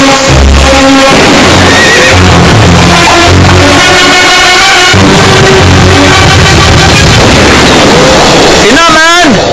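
A horse gives a loud, shrill whinny in a dense Tamil film trailer mix of music and effects, with voices speaking in the background.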